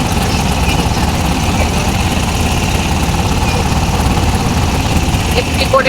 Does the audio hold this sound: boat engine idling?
yes